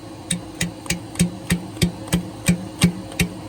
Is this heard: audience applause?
no